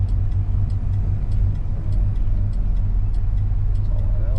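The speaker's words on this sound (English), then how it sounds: "The motor runs pretty good." A 1960 Dodge Dart engine idles steadily nearby, a continuous low rumble with a slight carburetor hesitancy and flat spot, running alone without talk.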